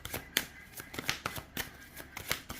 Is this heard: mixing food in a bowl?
no